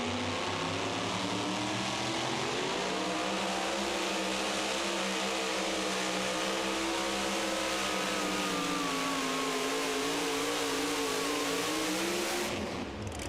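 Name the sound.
super modified 2wd truck pulling a sled at a truck pull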